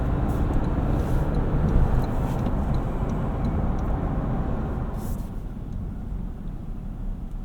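A 2025 Toyota 4Runner TRD Sport gathers speed on a three-lane highway, giving a steady low road and engine rumble with tire hiss that stays even throughout, with no voices.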